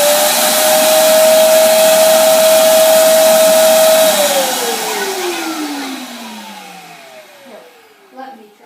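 A homemade vacuum chamber's suction motor runs with a loud, steady whine, then spins down with a falling pitch until it stops, followed by a faint knock.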